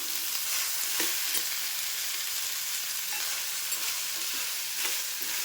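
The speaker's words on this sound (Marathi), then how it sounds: "हे व्यवस्थित परतून घेते" Carrots and green paste sauté in a hot pan for green pea rice, giving a steady, close sizzle with occasional stirring scrapes and no talk.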